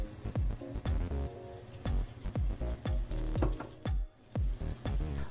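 Skinless pork longganisa fries in hot oil toward golden brown, a steady close sizzle broken by frequent sharp clacks and scrapes of stirring in a quick, uneven rhythm, with no voices.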